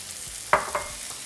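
Seasoned ground meat with black pepper, ancho powder, oregano, cumin, ginger and cinnamon is mixed and broken up in a pan for breakfast burritos, giving two close scraping strokes over a faint background hiss.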